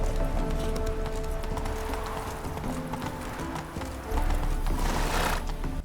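Horse hooves clip-clop steadily at a gallop in The Witcher III on the Switch, with an occasional whinny, running continuously over game music and ambience.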